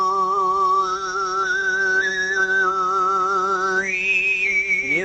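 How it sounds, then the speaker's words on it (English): Tuvan overtone throat singing from the Mongolian steppe: one voice holds a low drone while a clear whistling overtone glides and steps higher above it, loud and continuous throughout. "the thing that he picked up on was what is known as Tuvan throat singing"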